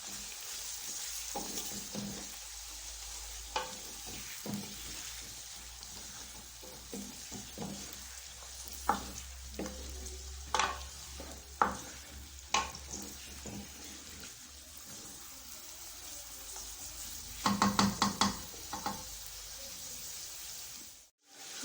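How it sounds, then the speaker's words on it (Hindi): Chicken sizzles steadily as it fries in a pot with masala and salt, while a utensil is stirred and scraped against the pot in scattered knocks and a rapid rattling burst near the end, close and without talk. "इसमें हम चिकन ऐड कर देंगे। इसे फ्राई कर लेना है।"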